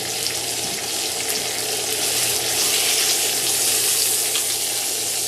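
A steak frying in a pan in a home kitchen, a dense continuous hiss and crackle of hot oil that stays loud and even throughout, close by with no talk.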